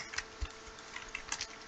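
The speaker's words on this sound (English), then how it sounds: "we're going to start by typing" Fingers tap a computer keyboard while entering C# code, producing a sparse run of quiet, irregular clicks.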